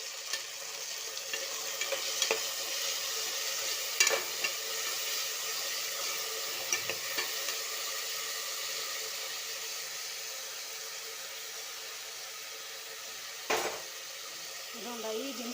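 Tomato stirred and sizzling in a frying pan, a steady hiss of frying throughout with occasional scraping taps of the utensil against the pan, heard up close.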